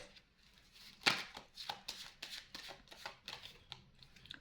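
Tarot cards being shuffled, a crisp slap followed by a run of quick papery riffles and flicks, close and fairly quiet, with no talk.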